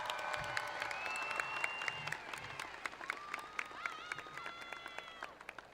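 Faint crowd applause for Tift County High School graduates at their graduation ceremony, steady clapping heard from a distance with cheers and whistles rising above it and voices mixed in.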